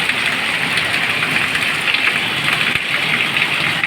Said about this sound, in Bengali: মানে এত বৃষ্টি হচ্ছে